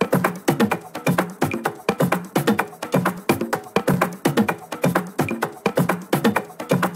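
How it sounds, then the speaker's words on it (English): Latin tech house percussion loops, five layered together, play a busy, steady syncopated groove of hand-drum and shaker hits at a loud, even level with no voice. "I used 5 percussion loops in total,"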